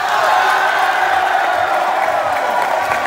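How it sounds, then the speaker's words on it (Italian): Dense concert crowd noise at a show at Blera In Rock, steady and loud throughout, with cheering and whoops blended into a continuous roar rather than distinct clapping. "e un applauso a il signore"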